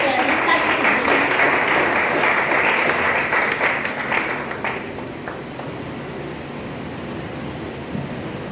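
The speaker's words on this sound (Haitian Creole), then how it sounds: "on a demandé pour tout le monde applaudir tête de ce projet" An audience at a youth activists' summit breaks into dense, loud clapping that gradually thins and fades after a few seconds, leaving a low room hum and a few scattered claps.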